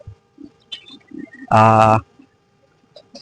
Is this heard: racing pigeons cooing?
yes